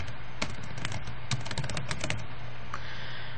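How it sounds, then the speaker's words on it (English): A computer keyboard clatters under quick, close typing of a chart title, a fast irregular run of keystrokes that eases off near the end, with no talking. "Type in the title of your chart."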